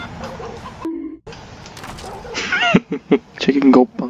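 In the video game Far Cry 5, a chicken clucks in a short burst of rapid squawks near the end, mixed with lively game sounds while a player talks excitedly over it.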